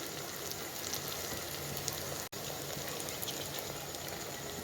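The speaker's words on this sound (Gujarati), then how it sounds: "ટમાટરને હવે આપણે શેકાવી દઈશું 3 મિનિટ માટે" Steady, crackling sizzle of tomatoes and okra frying in a pan with spices, continuous and fairly close, with a brief dropout midway.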